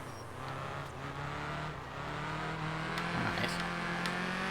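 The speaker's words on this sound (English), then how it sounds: "the acceleration on this thing is just" A rally car in the racing game Art of Rally accelerates hard, its engine note a steady, loud drone that climbs in pitch and holds without a break, with no talk over it.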